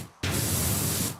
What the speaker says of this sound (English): you just spray this and it gets unbusted